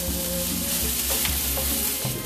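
Spices sizzle and crackle steadily in a hot pan with garlic for a hemp curry, with a low hum and occasional stirring scrapes close up; no one speaks.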